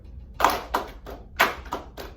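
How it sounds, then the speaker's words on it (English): Students in a music lesson clap a rhythm pattern of groups of two and three, six crisp hand claps in uneven spacing, close and fairly loud with no voices. "I just want you to read it and clap which one I'm pointing to."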